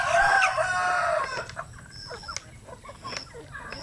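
Pet chickens and a rooster cluck and call in short bursts while being fed coconut scraps outdoors, loud at first, then softer scattered clucks over a quiet background.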